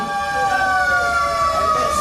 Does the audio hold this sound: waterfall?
no